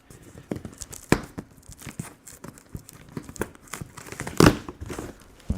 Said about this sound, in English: we'll just cut open the front here